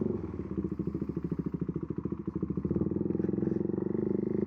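Husqvarna Svartpilen 401 motorcycle riding, its engine loud and steady with a rapid, even pulsing throb that holds close throughout, no voices over it.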